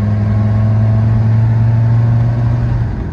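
A Land Rover TD5 diesel pulls hard uphill in third gear at full throttle, its loud, close engine droning with a steady low growl that eases slightly at the end.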